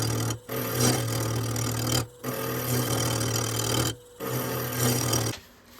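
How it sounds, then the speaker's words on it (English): A wood lathe spins a vase while a round carbide tool cuts the interior, producing a steady rasping, scraping drone in repeated passes broken by short pauses, with a low motor hum underneath. "I've got my least aggressive round carbide for doing the inside"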